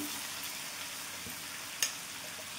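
Cabbage and mixed vegetables with grated coconut and green chilli are stirred in a hot pan, with a continuous soft sizzle and one sharp click of the spoon.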